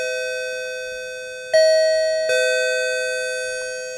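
PGH3000 paging gong sounding before a microphone announcement, two clear electronic chime tones struck about a second apart over a steady held tone, each ringing on and decaying slowly, loud and close.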